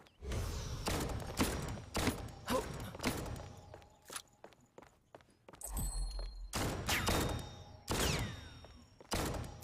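A decoy fires purple bullets in the shooter game Paladins: repeated sharp shots in short bursts and single pops, with thuds and pauses between, fairly close and moderately loud, without talk.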